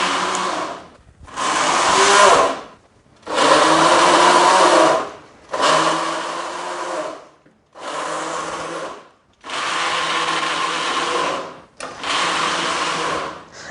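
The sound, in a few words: blender running, blending tamarind with water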